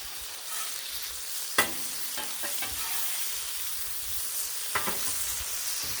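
Turkey burgers sear in butter on a Blackstone griddle with a constant close hiss and crackle, broken by a few brief spatula scrapes and taps.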